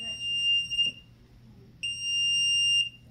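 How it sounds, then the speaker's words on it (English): A Sofabaton X1S smart remote's find-my-remote locator emits a high, piercing electronic beep, two sustained tones separated by a short pause, loud and close in a quiet room. "it's going to beep until I find it"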